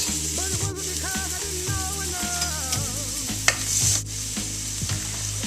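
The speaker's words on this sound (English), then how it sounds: "So I've got my olive oil heating up over medium-high heat. I'm going to add a couple cloves of garlic to that." A couple of garlic cloves sizzling in olive oil heated over medium-high heat, a close steady fry with stirring scrapes.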